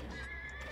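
A horse neighs in the video game Age of Empires II, a short, close whinny heard on its own with no talk.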